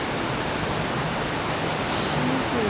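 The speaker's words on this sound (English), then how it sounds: "There is like a full-on waterfall in here." Steady, broadband rushing of a waterfall inside a cave fills the space, constant and fairly loud, with no voices.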